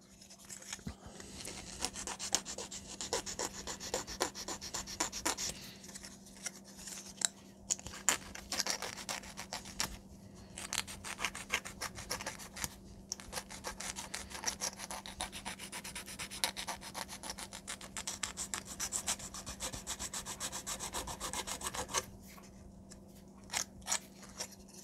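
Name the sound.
sanding corners of a model airplane part into a semicircle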